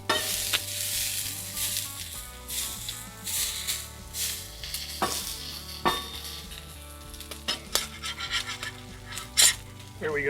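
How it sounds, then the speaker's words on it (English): Onions sizzle and fry in avocado oil on a hot surface for a crack burger, a steady crackle with scraping stir sounds and a few sharp clatters throughout, fairly close and with no talk. "I'm just going to add a little avocado oil, put down some onions."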